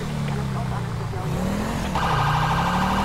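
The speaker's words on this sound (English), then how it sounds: "That's the ambulance." An ambulance siren wails in the LSPDFR police video game, a steady, rising and falling tone heard throughout under car noise, with a second higher tone joining partway through.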